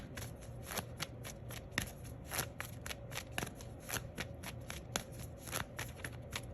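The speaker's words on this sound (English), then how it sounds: "I want to shuffle." Tarot cards being riffled and shuffled in a quiet room, a fast stream of soft crisp flutters and slaps repeating close by at a low level, no talking over it.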